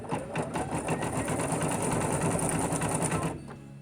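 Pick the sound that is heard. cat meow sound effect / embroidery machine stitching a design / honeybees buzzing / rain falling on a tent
embroidery machine stitching a design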